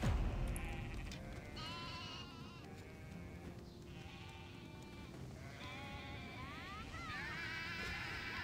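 Sheep bleat repeatedly at a farm in the online game Black Desert Online, several overlapping calls rising and falling over steady background game ambience, fairly loud and close throughout.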